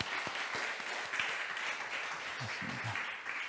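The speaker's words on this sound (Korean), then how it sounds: "축복 박수 할까요?" A church congregation gives a blessing applause during a Wednesday service, a dense, steady round of clapping from many hands at a moderate distance, with faint low murmurs underneath toward the end.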